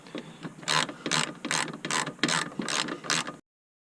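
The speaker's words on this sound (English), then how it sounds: "we're going to go ahead and take these screws out" Screws come out of a Chevy dashboard with a ratcheting tool, giving a close series of about seven quick rhythmic clicking bursts before it stops.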